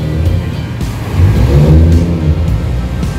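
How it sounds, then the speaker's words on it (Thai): A Nissan Skyline GTR R33 400R climbs a ramp inside a parking building toward a rooftop car show, its engine loud and close with a steady mid-pitched drone that swells as it revs up partway through. "นี่ครับรถกำลังขึ้นไปข้างบนนะฮะ"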